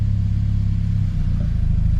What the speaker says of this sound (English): I hope it's just the wheel nuts that are making that noise, because everything else is tight.